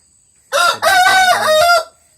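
A rooster crows once, loud and close, with a short opening note followed by a long drawn-out call lasting over a second, standing alone against a quiet background.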